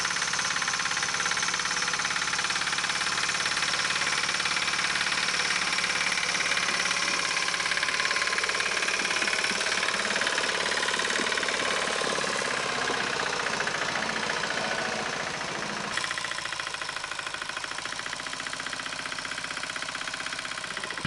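A tractor's engine runs steadily throughout, a loud continuous mechanical drone with a knocking rumble, on a log cabin building site, with a slight change in tone near the end and no talk.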